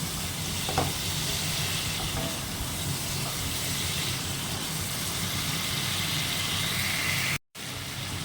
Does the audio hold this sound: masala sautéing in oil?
yes